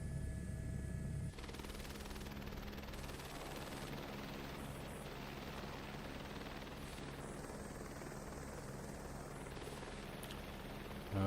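A helicopter flying in Microsoft Flight Simulator 2024 gives a steady, dense rotor and turbine drone that continues throughout at even loudness, with a brief louder rumble at the start and no talk.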